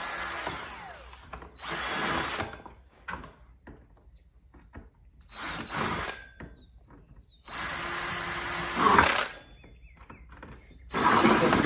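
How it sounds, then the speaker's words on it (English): A power drill fitted with a hole saw cuts through the side of a 5-gallon plastic bucket near the bottom, in loud whining bursts of a few seconds each, separated by quiet pauses and small handling clicks. "you're going to drill a hole through with your hole saw"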